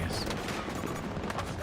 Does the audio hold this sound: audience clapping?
no